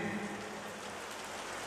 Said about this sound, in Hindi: बारिश कोई प्रॉब्लम नहीं